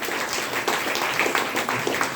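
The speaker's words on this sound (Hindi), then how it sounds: "जोरदार ताली होनी चाहिए।" An audience at a motivational business program in Bhagwanpur gives a continuous, lively round of applause, many hands clapping at once at a steady, moderately loud level without talk over it.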